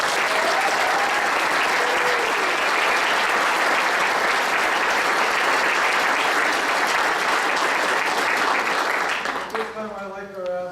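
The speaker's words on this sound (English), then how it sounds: "Please join with me in recognizing the parents and the recipients of these awards with a round of applause" A lodge audience at a school awards event gives a long, loud round of steady applause for award recipients and their parents, fading out at the end as a voice starts to speak.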